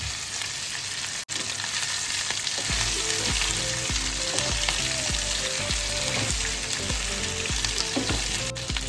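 Boiled potato pieces fry in a hot pan, a dense, continuous sizzle close up with rhythmic stirring scrapes repeating through it, no talk.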